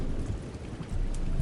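Steady soothing rain falling as a sleep ambience, a dense even patter with faint low rumble underneath, continuous and moderately loud with no voices.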